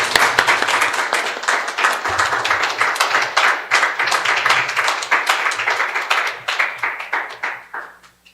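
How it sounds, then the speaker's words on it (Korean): Audience at a Korean church youth worship gathering applauds to welcome a worship leader, a dense burst of clapping that carries on steadily, then thins and fades toward the end. "이기훈 전도사 모실 때 큰 박수로 환영해 주십시오."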